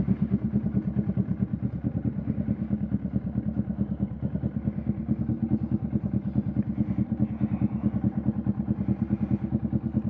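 A motorcycle rides through Makati streets, its engine a steady, close, low throbbing pulse that stays even for the whole stretch, with no talking.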